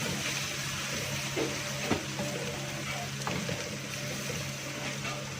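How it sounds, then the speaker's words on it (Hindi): Beef keema with ground chillies, garam masala and coriander powder frying in a pan, giving a steady low sizzle with faint stirring clatter throughout. "अब इसकी भुनाई करते हैं"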